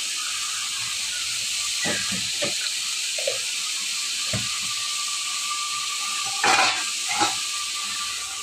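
Water and cumin hit a hot pan in a home kitchen, giving a steady broad hiss of steam and sizzle that runs the whole time, with a few sharper bursts of spitting and clatter from stirring.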